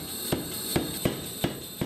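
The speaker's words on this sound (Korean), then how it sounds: "꼬여서 동그랗게 변한 쇠가 여러 번의 망치질을 거쳐 다시 납작한 형태로 바뀝니다." Steel being hammer-forged flat at a Korean blacksmith's forge for handmade knives and hoes: five sharp metallic strikes at an uneven pace over a steady loud roar of the workshop and fire.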